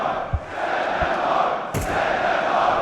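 An esports arena crowd at an IEM Sydney 2023 CS:GO grand final roars and cheers continuously, a dense, loud wash of voices with a few low thumps and a sharp burst partway through.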